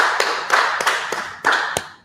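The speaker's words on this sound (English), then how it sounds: "let's clap it up" A small group clapping hands at a gathering, a handful of loud, close claps spaced roughly every quarter to half second, some doubled, ending on a final sharp clap.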